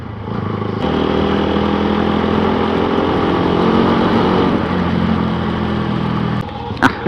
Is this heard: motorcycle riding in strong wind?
yes